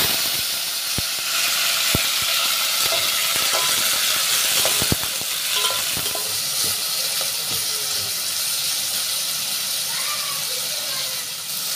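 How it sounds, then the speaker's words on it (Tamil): Onions and tomatoes sauté in a pan for a Tamil paruppu urundai kuzhambu, a steady broad hiss of frying under scattered clicks and stirring taps, close and fairly loud throughout. "இப்ப தக்காளியும் வெங்காயத்தையும் சேர்த்து வதக்கிட்டோம்"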